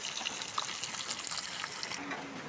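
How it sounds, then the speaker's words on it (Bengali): Magur catfish fry in hot oil, a soft, steady bubbling hiss with no breaks and no talking, fairly quiet throughout. "মাগুর মাছগুলো ভালো করে লাল লাল করে ভেজে নিচ্ছি"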